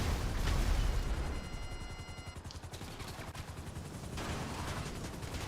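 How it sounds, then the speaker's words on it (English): A homing missile fires in GTA Online amid a dense barrage of game gunfire and explosions, a loud roaring burst up front, then steady rattling shots and a whooshing swell near the end. "Homing missile. Homing missile."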